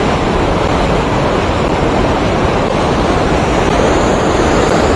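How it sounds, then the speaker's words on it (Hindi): Fast water rushing through a mountain pass at sunset, a steady, loud broadband roar that fills the whole stretch without pause. "यहाँ पानी का आप फ्लो देखते हैं कितना स्पीडी में पानी"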